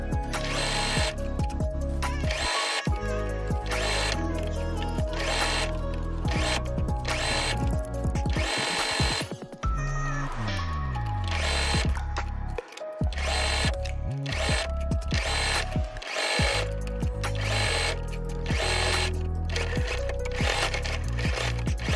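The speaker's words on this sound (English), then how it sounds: "We're gonna take it over to our handy dandy sewing machine." A steady mechanical whir runs continuously with brief stops and restarts, like a sewing machine stitching at speed, loud and close.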